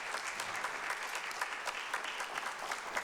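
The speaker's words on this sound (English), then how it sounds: "yes, round of applause" A round of applause in a city council meeting chamber, a brief, fairly soft patter of many hands clapping steadily throughout.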